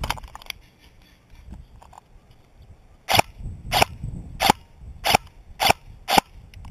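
An airsoft gun fires intermittently: a few soft clicks, then a run of six sharp, loud snaps spaced roughly half a second apart, with no voices.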